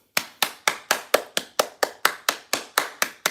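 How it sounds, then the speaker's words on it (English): Hands clap in a steady, evenly spaced rhythm, about thirteen sharp, close claps with no talking. "Give yourself a round of applause"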